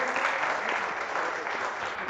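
Audience applause at a Gujarati poetry gathering in Godhra, a steady dense wash of clapping from a crowd that holds level and loud through the whole stretch.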